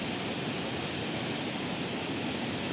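Tinuy-an Falls, a wide waterfall, roars in a dense, constant broadband rush with no breaks. It sounds close and steady, and no voices are present.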